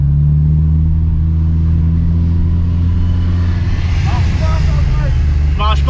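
A Volkswagen Polo WRC Stage 2 rally car revs hard with a steady, loud, close engine roar and rising pitch toward the end, while people talk over it.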